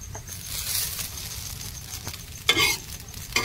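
Chowmein noodles stir-fried in hot oil with two spatulas, seasoned with turmeric and salt, giving a faint sizzle with scraping and stirring clatters, including a louder scrape near the end.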